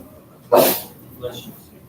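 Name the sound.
sneeze in a classroom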